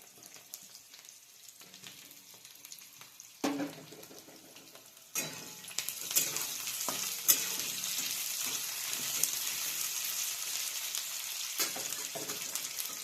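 Potatoes frying in a pan and being stirred, a steady soft sizzle broken by scraping strokes and clanks of the spoon against the pan, with no one talking.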